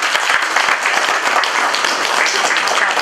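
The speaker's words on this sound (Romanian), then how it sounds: "Ați aplaudat în sfârșit," Steady audience applause at a poetry event, continuous dense clapping from many hands, fairly close and even throughout.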